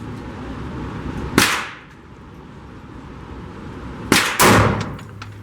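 A Hi Point JXP 10mm pistol fires hot loads: one sharp, loud, close crack, then two more shots in quick succession a few seconds later, each with a brief ringing tail over steady outdoor background noise.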